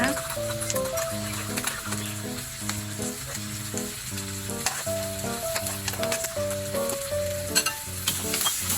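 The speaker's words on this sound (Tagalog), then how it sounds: "Haluin po ulit natin para iwasang dumikit sa kawali." Monggo with pork knuckles, ginger and pepper frying and being stirred in a frying pan, a steady sizzle under loud stepped background music.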